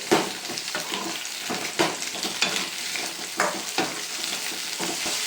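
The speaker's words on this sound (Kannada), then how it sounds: "ಎಣ್ಣೆಯಲ್ಲಿ ಇದು ಫ್ರೈ ಆದಷ್ಟು ಚಟ್ನಿ ತುಂಬ ಟೇಸ್ಟಿಯಾಗಿರುತ್ತೆ ಸೊ ನೀಟು ಫ್ರೈ ಮಾಡಿಕೊಡಿ" Tomato chutney fries and sizzles steadily in hot oil, with repeated scraping stirs of a spatula against the pan. The sound is close and continuous, and no one speaks.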